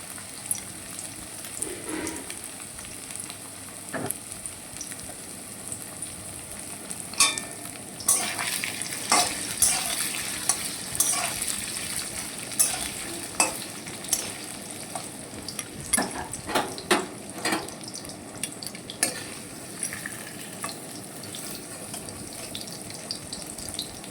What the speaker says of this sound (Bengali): পনিরটা কাটা হয়ে গেছে আমি এবার একটু ভেজে নিচ্ছি